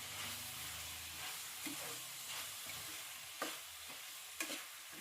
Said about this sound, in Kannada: ಇದೆಲ್ಲ ಹಾಕಿ ಚೆನ್ನಾಗಿ ಒಂದು ಒಳ್ಳೆ ಮಿಕ್ಸ್ ಕೊಡೋಣ ಇದನ್ನ.